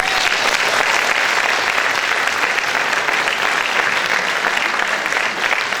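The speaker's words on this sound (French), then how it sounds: "je vous demande de l'applaudir" A theatre audience at the Casino de Dieppe gives sustained, dense applause during a variety show, the clapping loud and even throughout with no voices over it.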